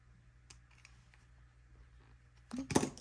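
Scissors snip through washi tape during a planner decorating session, a short, close crisp cut burst near the end after a quiet stretch with faint handling clicks.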